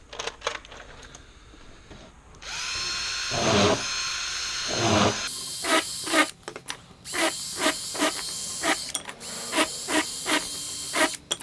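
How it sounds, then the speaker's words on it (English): A power drill countersinks screw holes in a wooden furring strip, with two sustained whirring bursts followed by a run of short, repeated drilling pulses, close and fairly loud with no talking. "I'm going to take it a step further and countersink them"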